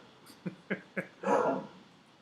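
An excited dog barks in three quick, sharp yaps, then lets out a longer, louder rough bark-whine, fairly close, with no talking.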